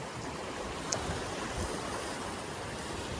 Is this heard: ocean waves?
yes